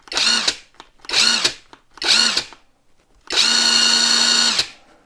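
Cordless LYUWO LW-LDD60 impact wrench run free with no load: three short bursts of motor whine, each ramping up and down, then one longer steady spin of about a second, loud and close.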